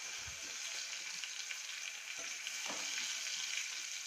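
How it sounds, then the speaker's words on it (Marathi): Tomatoes frying with browned onion in a home kitchen pan give a steady, soft sizzle and crackle with faint stirring scrapes, quiet and without voices. "कांदा ब्राऊन झाल्यानंतर तिने टोमॅटो त्याच्यामध्ये टाकलेलं आहे."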